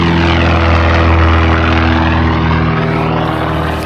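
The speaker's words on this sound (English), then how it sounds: "Airplane." A propeller airplane passing overhead, a loud, steady droning engine hum with a throbbing tone that holds for several seconds and slowly eases off, with no talk.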